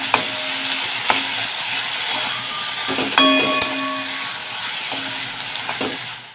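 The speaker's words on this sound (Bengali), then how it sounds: "তো শাকটা দিয়ে এখন একটু ভালো করে তেলের মধ্যে নেড়ে নেব।" Saag greens stirred in hot oil, a continuous sizzle broken by several sharp metallic taps and clinks of the spoon against the pan, close and fairly loud, no talking.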